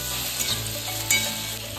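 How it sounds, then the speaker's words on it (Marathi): Vegetables sautéing in a pan: close, steady sizzling with occasional scraping stirs and small pops, no talking. "थोडंसं मीठ टाकून घ्यायचं आणि भाजी छान परतून घ्यायची"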